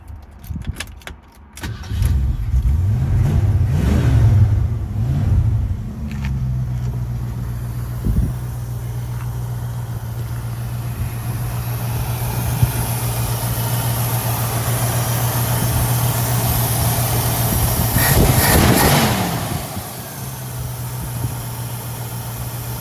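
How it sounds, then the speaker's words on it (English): A 1968 Ford Mustang with its carburetor and electronic ignition cranks over and catches, then settles into a steady, loud, close idle with a brief rev swell near the end. "let's fire this engine up"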